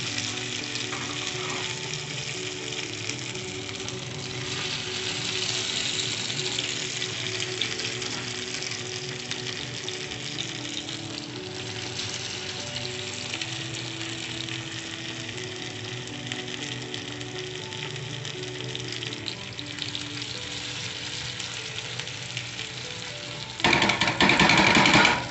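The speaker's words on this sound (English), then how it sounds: "Wait for that to get nice and hot. And go ahead and spoon in those potatoes." Potatoes spooned into hot cooking oil for home fries sizzle and crackle in a steady, loud fry that continues with little change, ending in a brief louder clatter.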